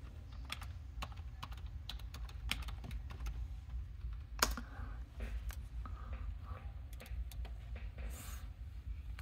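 Keys clatter on a computer keyboard as a clan chat message is typed during a strategy game. The taps are quick and irregular, faint but close, with no talk.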